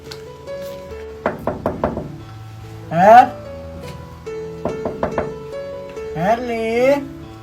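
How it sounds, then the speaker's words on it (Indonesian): Someone knocks on a house door in two quick bursts of rapid raps, close and sharp, while people speak between the knocks. "Siapa yang ketok-ketok ya tadi?"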